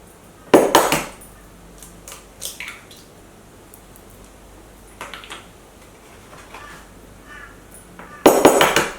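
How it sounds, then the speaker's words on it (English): Eggs cracked one after another into a bowl for an omelette, with sharp taps and wet squishy drops spaced out over a quiet background, and no talking. "So I just start by popping all the eggs into a bowl."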